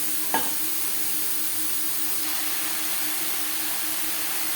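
Bottle gourd lightly frying gives a steady, even hiss of oil with one soft utensil knock near the start, otherwise constant and unbroken, with no talking.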